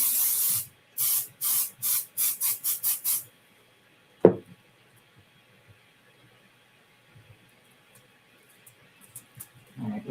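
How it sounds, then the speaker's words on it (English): Pixie spray is sprayed onto a delicate stamp set in about eight short, sharp hissing bursts in quick succession, close up. Then comes a single knock, followed by quiet handling noises. "I think we are going to pixie spray it because it is a delicate stamp set."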